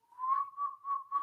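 A person whistles in a short, chirpy pulsing pattern imitating crickets, four quick bursts in a steady rhythm, close and clear with no talking.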